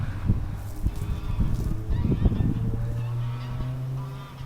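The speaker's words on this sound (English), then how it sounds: "There's some geese being strangled up there." Geese honking somewhere above in an Icelandic hillside setting near a church, a cluster of rough calls rising over steady low background rumble, moderately loud and fairly close.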